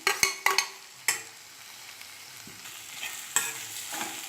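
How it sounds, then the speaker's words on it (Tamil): Mashed potatoes with turmeric stirred in hot oil, a spoon scraping and clacking against the pan in a few sharp strokes over a low steady sizzle, close and moderately loud. "எல்லாத்தையும் ஆட் பண்ணி நல்லா மிக்ஸ் பண்ணிக்கலாம். உருளைக்கிழங்கு ஆயிலில் நல்லா ஃப்ரை ஆகணும்."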